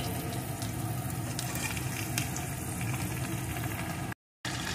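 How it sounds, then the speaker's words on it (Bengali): Potatoes fry in a pan for a cabbage curry, giving a steady close sizzle and crackle with one brief gap near the end. "এখন আলুটাকে একটু লাল লাল করে ভেজে নেব"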